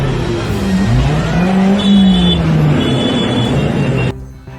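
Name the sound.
white minibus revving its exhaust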